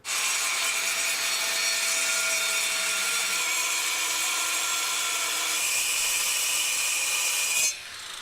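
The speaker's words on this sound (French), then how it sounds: "Il suffit de prendre les mesures et de découper avec la meuleuse d'angle." An angle grinder cuts paving stones with a loud, continuous high-pitched whine and gritty abrasive hiss for about eight seconds, then stops abruptly.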